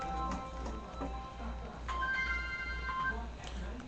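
A telephone rings with a ringtone of repeated electronic tones and short melodic beeps, at moderate level over a low background hum. No one speaks.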